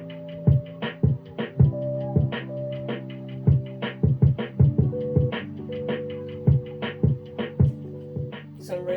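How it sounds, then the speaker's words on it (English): Lo-fi hip-hop drum beat with a sample: punchy kick and snare hits in a steady, laid-back groove under sustained tonal sample chords, played alone at moderate level. "Some real nice hip-hop drums,"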